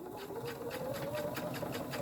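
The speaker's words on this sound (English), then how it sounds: "Go right down the middle of that rack and you'll get it sewed on" A sewing machine runs nonstop as it stitches a homemade pocket tissue pouch, a close, steady, rapid mechanical whir with fast needle chatter and no voices.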